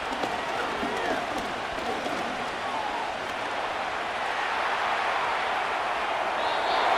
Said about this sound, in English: They're going to give out a little applause on that play.